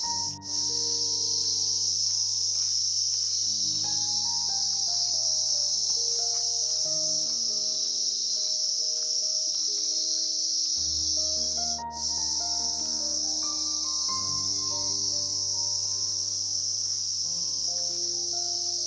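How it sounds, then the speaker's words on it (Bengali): Crickets chirp in a steady, dense, high-pitched drone all around a village in Kalimpong, North Bengal, with music playing underneath throughout and no talking. "চারদিকে ঝিঝি পোকার আওয়াজ"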